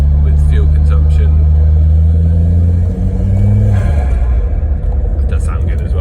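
Volvo 945 Turbo engine on a test drive, built up as a high-performance daily driver with big injectors; a loud, steady low drone that shifts pitch midway as the revs change, with road rumble throughout.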